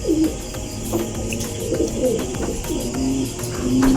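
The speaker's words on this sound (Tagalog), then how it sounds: "Ito yung mga ibon na panglaban natin mga boss." Young racing pigeons cooing nearby in a loft, a few soft, repeated low coos over light rustling and background noise, with no speech.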